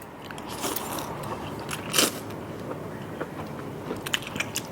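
Fresh blood cockles bitten and chewed, with crisp crunchy bites and wet mouth sounds, close and steady, with no talking.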